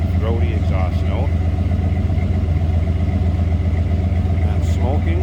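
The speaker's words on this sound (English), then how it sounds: "listen to that. Nothing crazy over the top for cam. No crazy exhaust. Just a nice, deep, throaty exhaust note." A 1966 Chevrolet Impala SS hardtop with a mild cam and stock-style exhaust runs steadily at close range, its deep, throaty low rumble constant throughout while people talk over it.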